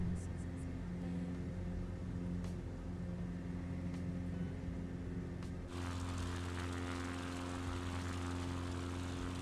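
A propeller aircraft engine in Flight Simulator 2024 drones steadily with a low hum, then grows brighter and louder in its upper range partway through as the throttle and prop settings change.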